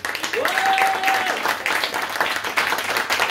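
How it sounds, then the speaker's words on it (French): Audience at a literary conference clapping in a steady, dense round of applause, with a brief whistle-like tone early on and the crowd's clapping filling the room throughout. "avec Naya et Roman, que je vous demande encore d'applaudir."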